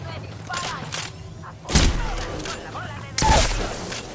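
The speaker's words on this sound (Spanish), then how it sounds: "¡Me disparan!" Enemy gunfire in a shooter game arrives as two heavy, booming impacts with a few lighter shots between, close and punchy against quieter game ambience and low speech.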